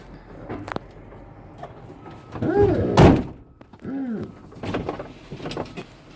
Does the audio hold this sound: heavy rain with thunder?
no